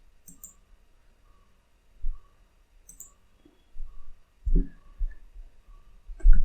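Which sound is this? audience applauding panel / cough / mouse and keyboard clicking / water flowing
mouse and keyboard clicking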